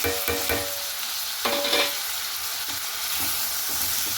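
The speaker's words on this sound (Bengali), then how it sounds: "একটু টমেটো কুচিয়ে কুচিয়ে রেখেছি এটাও ভালো করে সঙ্গে একটু ভাজা ভাজা করে নেব" Chopped tomato frying in a pan with chilli, turmeric and cumin powder, a steady sizzle broken by a few louder stirring scrapes, close and continuous with no talk.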